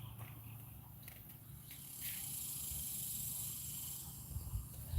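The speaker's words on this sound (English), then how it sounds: "That noise you hearing now is the cicadas." A steady high drone of mating cicadas fills the air, swelling louder partway through, with faint low rumbling and a few soft bumps underneath; no voices.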